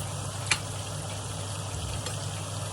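Cumin powder sizzles in hot oil for Kashmiri pulao in a steady, moderately quiet fry with a couple of brief sharp clicks, and no voices.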